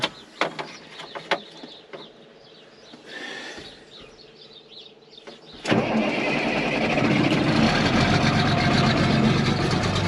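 An old tractor's 5.9 Cummins diesel cranks on a farm morning and catches, roaring up loud and then holding a steady rumbling run, with a few sharp clanks and birdsong before it starts.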